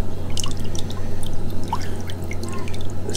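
Mangrove mud poured into reef aquarium water gives a steady close trickle and drip, with small splashes over a constant low hum of tank equipment.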